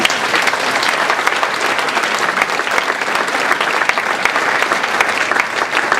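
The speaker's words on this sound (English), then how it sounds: "I think that deserves an applause." Dense, steady audience applause at a folk festival memorial concert, a loud, even wash of many hands clapping throughout with no voices standing out.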